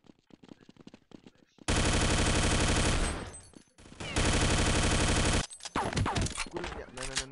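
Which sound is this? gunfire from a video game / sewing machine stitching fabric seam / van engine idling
gunfire from a video game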